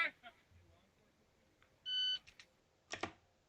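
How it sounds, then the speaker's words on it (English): Shot timer start beep on a shooting range: a single steady electronic tone of about a quarter second, clear and fairly loud, followed shortly by a sharp burst that may be a gunshot. "So I'm pausing it here just after the beep"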